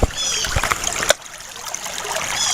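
Water rushes steadily through a gold sluice box at a riverside dig, a continuous bright splashing wash with a couple of brief knocks near the start.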